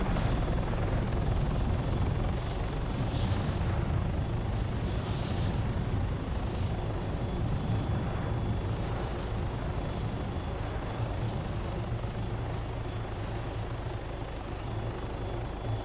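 A helicopter in the Arma video game flies fast over a city, its rotor thrum and turbine whine steady and prominent throughout, swelling slightly in pulses, with no talking.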